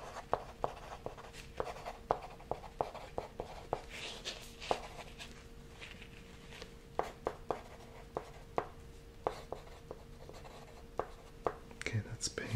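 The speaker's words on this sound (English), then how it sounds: "Let me just write that down." Pen scratching notes onto paper during a quiet dinner-party planning session, close and intimate, with steady scribbling strokes and sharp taps, under soft whispered talk.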